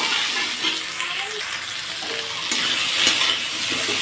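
Eggplant pieces stirred and fried in a pan for a cabbage dish, giving a steady hissing sizzle with soft scraping of the stirring throughout.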